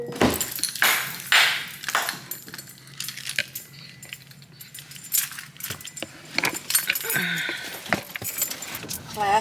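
Keys jangle in several bright bursts while someone heads out for an errand to Target, with intermittent talk and household movement around them, fairly close and moderately loud.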